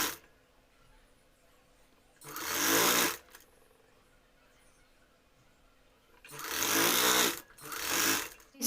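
A sewing machine stitches a puff sleeve onto fabric in two close bursts of fast mechanical whirring. The first burst is short, and the second is longer and breaks briefly before starting again, with quiet pauses in between.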